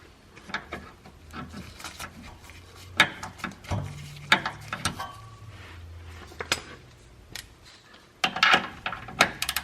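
Metallic clinks, taps and scrapes of a wrench working a nut loose beneath a C3 Corvette during an oil pan gasket replacement, irregular close clatter with short ratcheting bursts and no speech.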